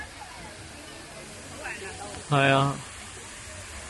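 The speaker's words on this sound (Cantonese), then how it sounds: "佢話呢個瀑布係 man-made 嘅喎，佢話泵水上去嘅喎" A man-made waterfall in Ipoh, Malaysia, fed by pumped water, gives a steady, even rushing hiss throughout, with a man's brief remark rising over it near the end.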